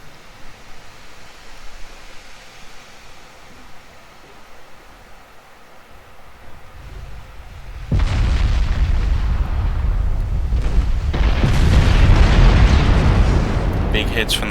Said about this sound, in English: Big hits from the battleships.